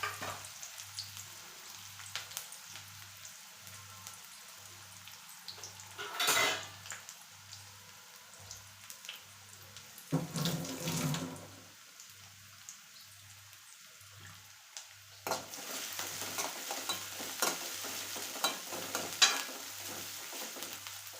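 Onions frying in a pan with occasional stirring, a low steady sizzle punctuated by a few louder bursts of scraping and spattering, alongside a faint regular background hum, no talking.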